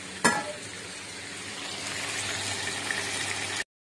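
Bata fish and potatoes frying in hot oil, a sharp splash at the start as they go in, then a steady close sizzle that holds until it cuts off, with no talk.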